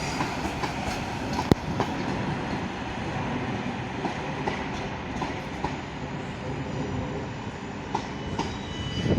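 Class 444 South Western Railway train at London Waterloo station: a loud, continuous rumble of rolling wheels with faint squealing and occasional clicks and bangs from the track, with no voices.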